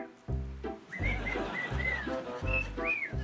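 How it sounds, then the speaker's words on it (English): A pet bird named Winchester whistles a series of short, rising and sliding notes, bright and close, repeating in quick bursts over a low, steady background drone. "Listen to little Winchester here tweet"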